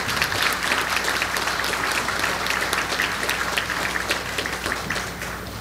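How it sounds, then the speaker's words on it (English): Audience at the opening ceremony of a national research conference in Belize claps steadily through the whole stretch, a dense, even patter that tapers slightly near the end. "Let's give him another round of applause."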